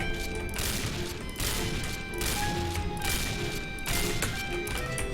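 Rapid shotgun blasts from the online shooter Point Blank, a dense string of loud, close booming shots firing one after another with little gap, alone without talk.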